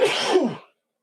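A single close, sharp human sneeze bursts out and cuts off abruptly in under a second, followed by silence.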